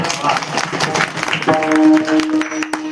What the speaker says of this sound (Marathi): या दोन्ही मृदुंगासाठी एकदा जोरदार टाळ्या वाजवा.